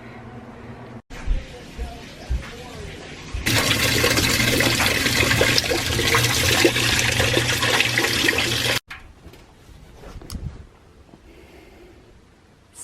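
Water rushes loudly into a washing machine for several seconds, with quieter clunks and mechanical sounds before and after.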